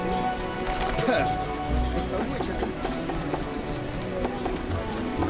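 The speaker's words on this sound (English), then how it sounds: "It's raining, unfortunately." Steady rain patters and hisses continuously in The Witcher video game, a dense wash of drops that stays level throughout.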